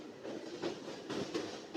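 A passenger train rumbles over a river bridge with rhythmic clickety-clack beats from the wheels over a steady metallic roar, heard from inside a carriage at moderate volume.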